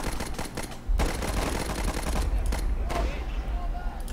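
Machine gun fire from a skirmish battle in the WWI game Warfare 1917, steady rattling bursts, loud and sustained over background battle noise, with a voice speaking at times.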